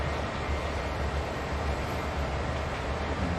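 Three GP38 diesel locomotives rumble in a Train Sim World run from Philadelphia to Trenton, a steady, loud, low idling drone with broad noise and no breaks.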